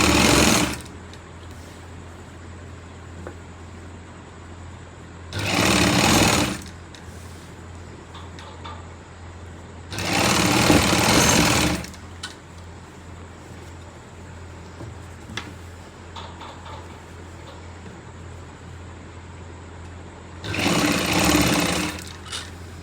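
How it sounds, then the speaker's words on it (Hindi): A sewing machine stitches plazo pant fabric in four loud, steady bursts of a few seconds each, with quiet pauses between the runs. "और मैं इसको ऐसे सिल लूँगी।"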